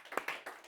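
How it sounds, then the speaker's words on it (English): A few scattered hand claps from people in an English class, faint and quick, several separate claps within a fraction of a second. "a round of applause, please"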